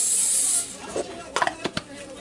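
Cooking spray gives a short, bright hiss onto a preheating pan, followed by a few light clicks and clatters as the can is set down.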